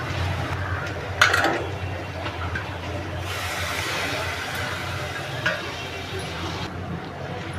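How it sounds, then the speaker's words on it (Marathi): Prawns sautéed in masala in a pan, with a soft sizzle, spatula scraping and a few metal clinks against the pan, fairly close and steady. "कोलंबी टाकली आहेत आपण मस्त अशी परतून घेऊया"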